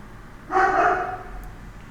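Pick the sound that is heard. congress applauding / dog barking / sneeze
dog barking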